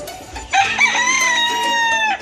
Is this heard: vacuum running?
no